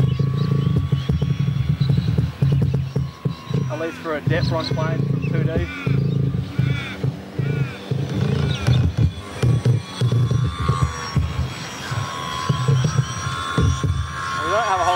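Extra 300 RC model plane's electric motor holding a steady throbbing drone at about half throttle in flight, loud and continuous, with someone talking over it throughout.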